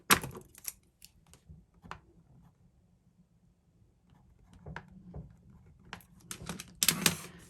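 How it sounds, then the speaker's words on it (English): Pen strokes on a sticky note come as a few soft, sparse scratches and taps with quiet gaps between them, faint and close, alone without talk. "So what I'm going to do is just write that on a sticky note."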